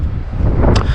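Gusty coastal wind buffets the microphone at St Ives Harbour in Cornwall, a loud low rumbling roar with a brief hiss of rustle near the end, alone without talk.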